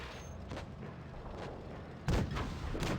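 A tank cannon shot in a tank video game: a muffled boom about two seconds in, rising over a steady low engine rumble, moderately loud and heard alone without talk.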